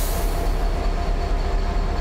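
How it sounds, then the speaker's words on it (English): A Caltrain train in Train Simulator 2018 rumbles forward with a steady low, dense roar and faint higher tones, continuous and even throughout, with no voices. "Come on, train. Pull forwards."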